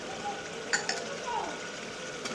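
Meat dropped into a pan of fried spice paste for a taro curry gives a steady sizzle, with a couple of brief clinks of a utensil and a voice speaking faintly over it.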